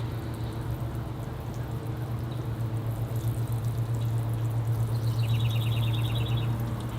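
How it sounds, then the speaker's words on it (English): Water mixed with fertilizer pours onto a Brazilian rain tree bonsai, a steady close trickle and splash over low background hum, with no talking. "I'll give it a water now with a bit of fertilizer mixed in."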